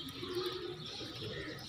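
A pet pigeon coos in a low, steady murmur at moderate distance, with faint chirps over a quiet hum.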